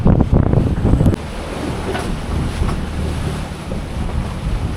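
Rough, confused open sea near Beverage Reef and gusting wind roar together, with heavy buffeting at the start easing into a steady churning wash of waves.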